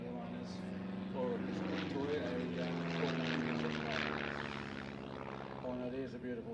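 A Tiger Moth biplane flying an aerobatic display, its propeller engine droning steadily overhead with a rising and falling pitch, heard with voices talking over it.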